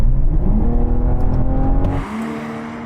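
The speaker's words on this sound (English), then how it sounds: "Now we're going for a rolling race from 50 miles an hour with the cars in their comfiest settings, automatic mode for the gearbox" Loud engine roar from a BMW M5 V10 Touring and a BMW M440i accelerating in a rolling drag race from 50 mph, a strong sustained drone that drops in pitch and intensity partway through.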